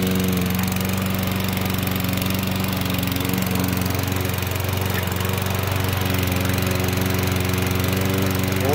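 A Husqvarna 725EX Series lawn mower engine runs continuously nearby, a loud, steady droning hum with a fast, even pulsing.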